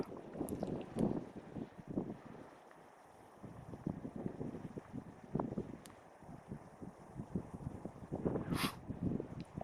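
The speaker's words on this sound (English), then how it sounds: "Bear in mind there is a bit of wind here" Gusty wind blows outdoors, buffeting and rumbling across the microphone in uneven surges throughout, with no voices.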